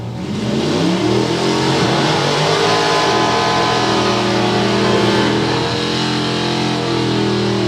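Two drag racing cars, a roadster and a Camaro, launch together in a loud, sustained engine roar that climbs in pitch through the gears, close and powerful, no voices over it.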